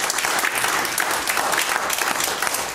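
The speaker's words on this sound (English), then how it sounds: "Give the Lord a hand clap." Steady crowd applause fills a church congregation, many hands clapping densely and evenly throughout at close range, with no clear voices standing out.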